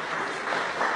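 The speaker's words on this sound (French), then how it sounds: "des applaudissements." A congregation applauds after a child's baptism in church, a steady wash of many hands clapping at moderate distance with no break.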